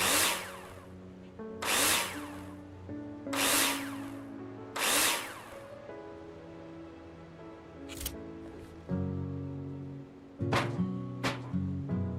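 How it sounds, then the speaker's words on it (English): In the video game Builder Simulator, repeated bursts of a power drill driving screws into a frame for plasterboard, four long whirs then shorter ones, over steady background music with no talking. "screw them in with a drill"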